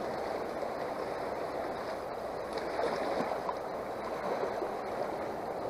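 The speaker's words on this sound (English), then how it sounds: "waves always come at the wrong time" Water surging and washing steadily at a gold-panning sluice, a continuous broadband rush of small waves with no voices, moderately loud and unbroken throughout.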